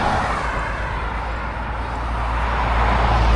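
Road traffic streams past near a pond on an outdoor spring walk, making a steady, loud, low rumble with no single vehicle standing out.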